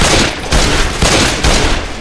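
Rapid, loud submachine gun fire in Left 4 Dead 2, continuous automatic bursts with a brief pause between strings of shots.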